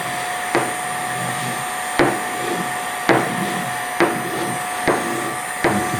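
A heat gun blows a steady hiss while a hand scraper lifts softened cured epoxy off a surface, sharp scraping strokes landing roughly once a second over the constant blower noise, close and clear, no talking.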